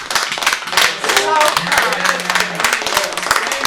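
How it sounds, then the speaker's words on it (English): An audience gives a round of applause at a live show, a short burst of clapping from a small crowd, fairly close and loud, with a voice speaking over it. "So let's give a round of applause for that"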